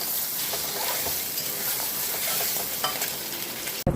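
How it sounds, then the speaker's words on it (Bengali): Eggs fry in a pan of hot oil for a Bengali egg curry, giving a steady close crackling sizzle with light spattering throughout, ending in a sharp brief knock, no speech. "ভেজে নিচ্ছি, ডিমের ঝোল হবে।"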